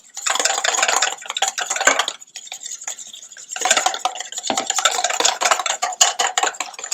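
Oil being whisked by hand into a simple salad dressing, a rapid scratchy whisk-against-bowl rhythm in two long bursts with a short pause between, close and fairly loud.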